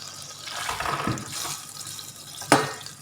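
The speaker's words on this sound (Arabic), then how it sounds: "وغادي نضيف ليها واحد شويه ديال الماء، شي بزاف شويه بحال هكا." A small splash of water poured into pizza dough for a tuna and turkey ham pizza, a brief gurgling trickle lasting about two seconds with a short sharper splash near the end; no voices.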